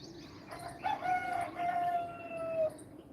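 A rooster near a house crows one drawn-out call, heard at a moderate distance over a low background hum, with a little fowl murmuring before it.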